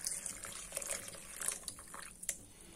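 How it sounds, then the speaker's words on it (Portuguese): Warm water poured from a tap over lentils in a bowl to soak them, a continuous splashing, trickling stream with small bright drips, close by and with no talking. "Eu vou estar colocando água para ele estar hidratando."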